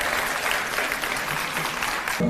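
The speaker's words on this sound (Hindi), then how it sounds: "तो एक कुछ तालियां अपनी हेल्थ के लिए जोरदार" Loud, dense applause from a crowd at an awards ceremony in Delhi, a steady wash of clapping that holds for a couple of seconds.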